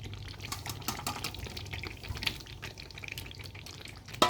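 Potatoes going into a pan of fried, browned meat: a faint, quiet sizzle with soft stirring and scraping, ending in a sudden louder clatter.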